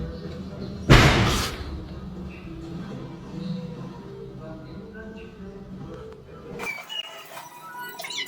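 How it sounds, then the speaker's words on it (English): A single loud bang near the start, like a door slamming, followed by a quiet room tone and a brief rattle toward the end. "A loud bang echoed through the house, sounding like a door slamming shut."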